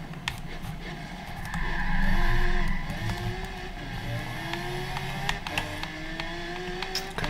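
Car drifting around a hairpin in the video game Forza Horizon 3, engine droning and shifting pitch while tires squeal in long sliding whines, steady and moderately loud with clicks of other game sounds, no talking.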